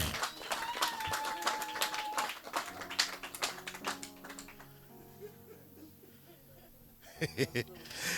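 A church congregation applauds and acclaims, a burst of clapping and cheering under a preacher's voice that fades into speech, then a short second round of claps near the end.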